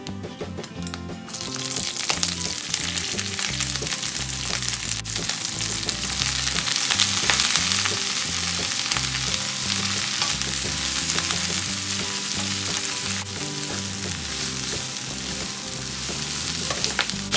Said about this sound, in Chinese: 锅中再次加油，油热了之后放入韭菜，